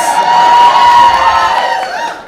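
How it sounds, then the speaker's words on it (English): Comedy club audience at an Asian pride stand-up show bursts into loud, sustained cheering and whooping with applause, filling the room before tapering off. "a room full of people applauding"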